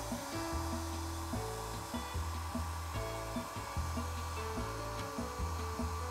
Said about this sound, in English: Then I'm taking the hair dryer and I'm warming up her head to make it soft and to melt